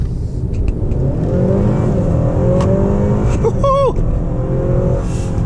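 A 2018 Honda Accord Touring with the 2.0-liter turbo engine accelerates under load, a loud steady engine drone that rises in pitch throughout, with a brief chirp-like sound near the end.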